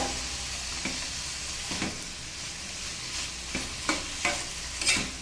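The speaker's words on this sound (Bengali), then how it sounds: "এখন এটাকে একটু নেড়ে চেড়ে ভালো করে মিশিয়ে নেব আর একটু ভেজে নেব" Jali pumpkin greens fry in a pan with a constant soft sizzle. A spatula stirs through them in a handful of irregular scraping strokes, close up, with no voices.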